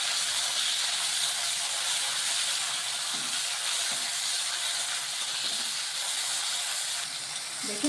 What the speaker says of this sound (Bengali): এখন একটু ভাজা ভাজা করে নিচ্ছি।